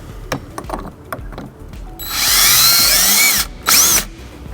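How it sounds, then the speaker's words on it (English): A power drill bores holes for hitch wiring bracket hardware on a 2004 Buick Rendezvous. A few faint clicks come first, then a loud sustained whine, a short pause and a second brief burst. "we're gonna go ahead and get some holes drilled for our hardware"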